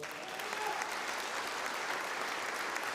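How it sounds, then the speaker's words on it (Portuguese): A church congregation claps in praise during a Portuguese-language sermon, even continuous applause heard somewhat distant and soft throughout. "Você pode aplaudir o Senhor?"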